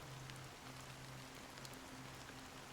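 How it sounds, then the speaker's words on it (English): Steady, soothing rainfall in the Honkai: Star Rail video game, a constant hiss of drops with faint patters, with a low hum beneath it and no pauses. "This rain is very soothing."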